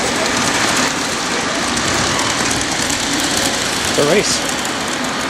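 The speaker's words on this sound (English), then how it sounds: "they deliver your food by train, and they have, you know, trains going in the windows and stuff" Small model trains delivering food around a restaurant rumble and clack steadily in a busy, noisy room, with diners talking over them and a brief louder clatter near the end.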